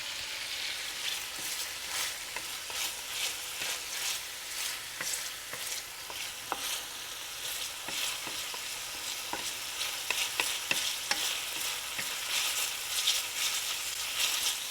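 Bacon fries in a hot pan on raised heat, a steady close crackle and hiss with scattered sharp pops and occasional stirring scrapes, continuous throughout with no talking.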